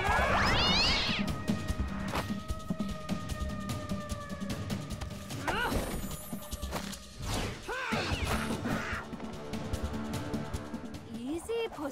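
A cartoon cat in an animated DC Super Friends Imaginext toy episode gives several rising, whiny meows amid music, crashes and whooshing effects, with voices talking between them.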